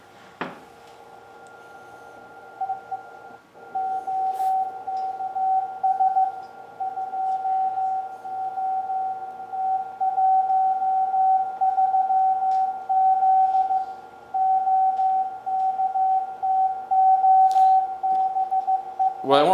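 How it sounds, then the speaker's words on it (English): A Morse code radio transmission from a wartime Enigma-era communication setup: a steady single tone keys on and off in rapid dots and dashes for nearly twenty seconds, fairly clear over faint static with brief clicks. "I want you to hear part of the Morse code transmission."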